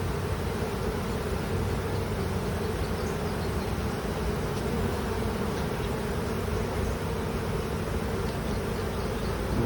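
Honey bees buzz steadily throughout a September hive inspection, a dense, continuous hum close by with no voices over it.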